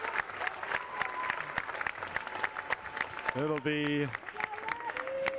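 A crowd at a high school basketball game in the Giant Center applauds a player fouling out, steady clapping and crowd noise under close commentary, with a whistle or horn sounding briefly.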